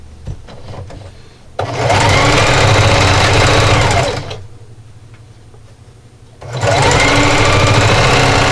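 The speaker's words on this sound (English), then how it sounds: "I'm just going to sew those two together" A sewing machine stitches two fabric strips together in two loud, steady runs of rapid mechanical whirring, close by, separated by a brief quiet pause.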